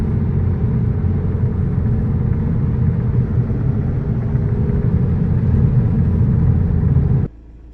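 A 2014 VW Passat TDI diesel accelerates hard in sport mode, a steady loud engine rumble building for about seven seconds, then cutting off sharply near the end.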